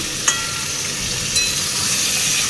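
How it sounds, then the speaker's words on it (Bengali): Meat for biryani being stirred and fried in a pan, a steady close sizzle with a couple of sharp spoon scrapes against the metal and no talking. "এখন এটাকে বেশ সুন্দর করে নাড়বো"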